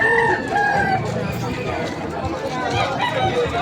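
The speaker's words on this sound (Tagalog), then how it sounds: "Murang mga manok yan." Chickens and roosters at a market chicken section in Malabon City, with a rooster crowing and hens clucking over a busy background of crowd chatter and people talking.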